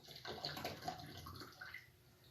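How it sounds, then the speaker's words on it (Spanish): Water poured from a container into an empty plastic bottle, a steady splashing gurgle lasting about two seconds, fairly quiet and close, with no talking over it. "Voy a colocarle agua."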